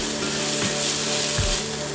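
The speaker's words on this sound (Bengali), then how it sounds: "যাতে তাড়াতাড়ি ভাজা হয়ে যায়, তার জন্য আমি এখন এর মধ্যে দিয়ে দেবো লবণ।" Steady, dense sizzle of onions frying in hot oil with salt added, continuous and close, with a couple of soft low thumps from stirring.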